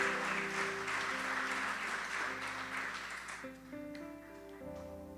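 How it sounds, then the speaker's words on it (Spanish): Applause from a church congregation rises and gradually fades, with sustained musical tones from instruments playing underneath. "Denle un fuerte aplauso al Señor."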